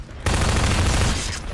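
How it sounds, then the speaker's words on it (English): A salvo of missiles blasts in the Half-Life 2: Aftermath video game, a loud, continuous roar of rapid explosive fire that cuts in suddenly and holds for over a second before easing off. "missile salvo attack thing is so weird"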